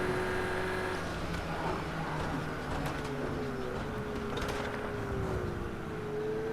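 Race cars, including a BMW and an Aston, drive in a racing video game, a steady engine drone whose pitch rises and falls smoothly throughout.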